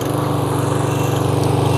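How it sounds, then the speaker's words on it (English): A Toro Super Recycler walk-behind lawn mower engine runs after a recoil pull start, a loud steady chugging putter close by with no talk. "pull this recoil until the machine starts"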